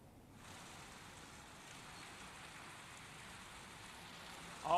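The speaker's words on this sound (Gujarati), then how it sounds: "અમદાવાદના રિવરફ્રન્ટ વિસ્તારમાં કે જ્યાં હાલ ધમાકેદાર વરસાદ ચાલી રહ્યો છે" Heavy rain falling at the Ahmedabad riverfront, a steady broad hiss of downpour that holds evenly throughout and swells suddenly at the very end, with no voices.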